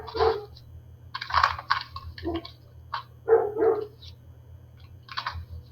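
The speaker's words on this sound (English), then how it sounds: "I put my dog outside, hoping he would be less disruptive" A dog barks in several separate bursts over a steady low hum, moderately close, with no talking.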